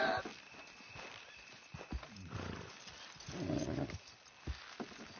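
Horses pulling a wagon in the video game Red Dead Redemption 2, with faint hoof clops, creaks and snorts at a quiet level, while a voice speaks over the top.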